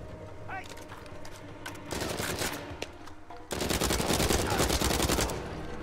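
Automatic gunfire from a weapon in Uncharted 4, rapid bursts that grow louder and denser partway through, ending in a sustained loud stream of shots, with faint background game sound before.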